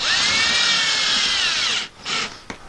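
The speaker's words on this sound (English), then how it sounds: "So I like to pre-drill, which gives you better results." A power drill whines at high speed for nearly two seconds drilling a pilot hole for a wall anchor, stops, then spins up briefly again before a final short burst.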